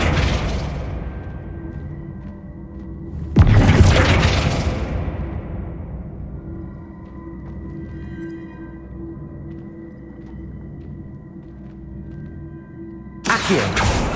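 Flipendo spell blasts in Hogwarts Legacy: two sharp bursts, the first around a third of the way in with a booming whoosh that fades slowly, the second near the end, over a steady droning game ambience.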